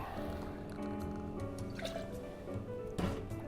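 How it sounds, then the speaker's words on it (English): Freshly squeezed lemon juice is poured into a cocktail in small trickling drips and splashes, with a steady background hum and no voices. "Then 30 mils of freshly squeezed lemon juice"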